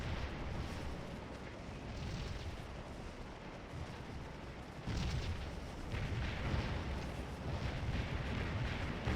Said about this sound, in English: Oh, nasty canister shot.